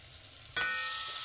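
Butter dropped into hot oil in a pan for lamb couscous bursts into a broad, steady sizzle after a brief quiet moment, staying loud and hissing to the end with no voices.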